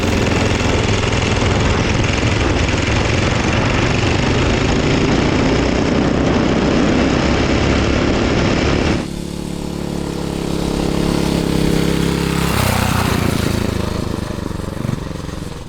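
A 1970s mini chopper bike's small vintage Briggs & Stratton engine roars loudly up close, a raspy, rattling buzz that drops in pitch partway through, then revs and idles unevenly.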